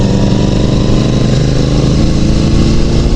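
A Benelli TNT 600i motorcycle engine runs close by, a loud, steady, rough mechanical drone with no pauses or voices.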